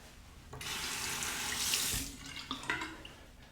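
Tap water runs steadily into a sink for a few seconds while the face is rinsed after a shave with a Merkur 34 stainless steel safety razor, the flow rising in the middle and then breaking into uneven splashes near the end.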